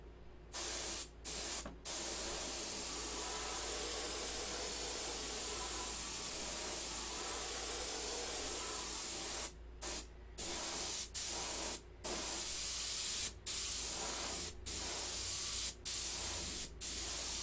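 Green paint sprayed from an airbrush onto the masked stabilizer of a P-51 model aircraft, a steady close hiss in repeated long bursts broken by short pauses near the start and brief gaps toward the end.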